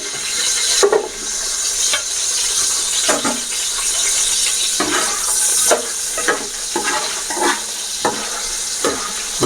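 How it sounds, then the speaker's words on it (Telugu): Small onions hit hot oil for chicken pulao, giving a steady sizzling hiss punctuated by repeated stirring scrapes of a spoon against the pot every second or so, close and clear without talk. "ఈ ఆయిల్ మరుగుతుంది కదా, మరుగుతున్నప్పుడు ఈ చిన్న ఉల్లిపాయలు ఇయే సైజులో ఒక 7-8 పాయలు కోసుకుని ఇందులో"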